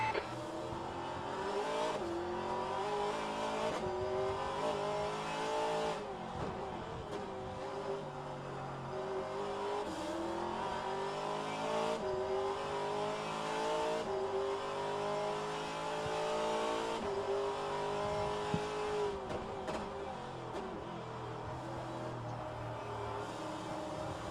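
Race cars driving the Long Beach street circuit in rFactor2, engines revving continuously with rising and falling pitch through shifts, occasional tire squeal, steady and close throughout.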